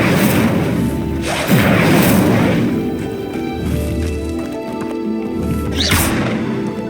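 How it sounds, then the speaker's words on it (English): Incendio fire spell cast in Hogwarts Legacy in the Forbidden Forest, setting a pyre ablaze: loud whooshing bursts and booming flame flares repeat several times, close and forceful, with crackling roar between them. "Incendio! Merlin's beard! The flames make the pyre sink."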